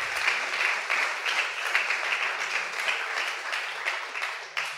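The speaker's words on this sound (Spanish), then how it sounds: "Gracias por los aplausos." An audience applauds during a Spanish-language lecture, a continuous bed of many hands clapping with a crisp, even texture that holds steady and thins slightly at the end.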